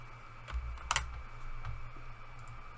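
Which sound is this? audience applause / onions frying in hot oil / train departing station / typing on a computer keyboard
typing on a computer keyboard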